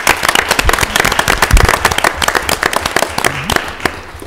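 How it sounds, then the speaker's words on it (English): A crowd at a city council meeting in Mobile, Alabama breaks into loud, close applause, dense overlapping claps with sharp individual hand strikes, a few voices murmuring faintly underneath. "So let's give them a huge round of applause."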